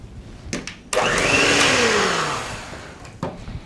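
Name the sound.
electric mixer mixing strawberry cake batter with butter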